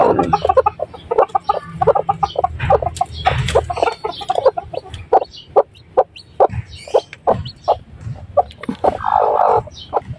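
Chinese Silkie chickens cluck and chatter near newly hatched chicks, a busy stream of short close clucks and peeps in rapid irregular bursts, loud and alone without talk.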